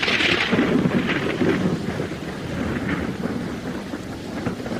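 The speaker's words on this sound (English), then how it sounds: "Two hours later, it starts to rain." Steady rain pours throughout while low thunder rumbles and rolls in the background, a continuous stormy wash with no voices.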